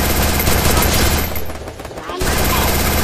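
Dense, loud automatic gunfire in the mobile shooter Free Fire, a continuous rattling barrage that dips briefly midway and then resumes at full intensity.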